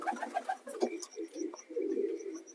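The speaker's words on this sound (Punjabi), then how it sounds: "ਲੋ ਜੀ ਆ ਕੁਛ ਬਾਈ ਜੀ ਦੇ ਕਬੂਤਰ ਆ" Pigeons coo softly in a low, repeated rolling pattern, several birds close by in a loft among Punjab pigeon keepers, with faint chirps above and no talk.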